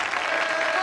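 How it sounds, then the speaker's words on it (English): Studio audience applause at a televised sketch comedy show, a steady, dense wash of clapping that stays loud and even throughout the short stretch, with no talking over it. "Hold the applause till I finish,"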